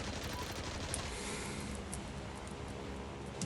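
Rapid bursts of 2cm aircraft cannon fire from a fighter plane in the video game Clear Skies, a dense continuous crackling barrage that stays loud across the whole stretch.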